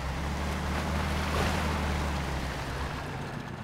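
A truck fords a very deep waterway in Spintires: MudRunner, American Wild DLC, giving a steady, loud rush of churning water over a low engine drone for the whole stretch, swelling slightly midway.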